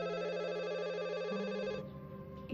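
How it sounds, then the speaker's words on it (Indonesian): A telephone ringing indoors, a warbling electronic ring tone repeating steadily at moderate volume before cutting off abruptly near the end. "Itu pasti Pak Rizal yang nelfon"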